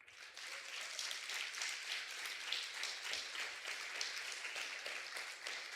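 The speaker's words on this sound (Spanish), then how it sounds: "Pero dele un aplauso a Jesús." A church congregation at a Saturday anniversary service applauds, a sustained, even wash of many hands clapping heard at a distance and fairly faint, continuing for several seconds.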